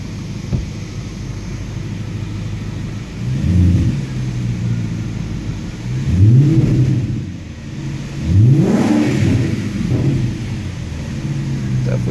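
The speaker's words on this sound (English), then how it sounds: "I'm going to rev it up a little bit." A 2002 Audi S6 engine revs in three deep, rising bursts over a steady idle rumble, heard fairly close and loud, with pauses between each throttle blip.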